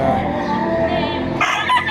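A rooster crows loudly and close by at a chicken market in Padre Garcia, Batangas, a single drawn-out call over a background of clucking hens.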